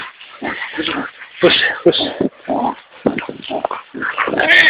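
A dog yelps and whimpers in short bursts close by, mixed with people talking over it.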